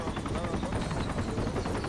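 Helicopter rotor noise from a military squad shooter video game, a steady, dense thrum that fills the whole stretch at moderate level, with voice chat faintly mixed in.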